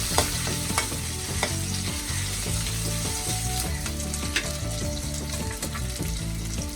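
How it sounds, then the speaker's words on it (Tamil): Green chillies sautéing in a hot pan for prawn cabbage poriyal, a steady loud sizzle with scraping and stirring clatter throughout, no voices. "இது நல்லா பச்சை வாசனை போகிற வரை நல்லா வதக்கிக்கலாம்."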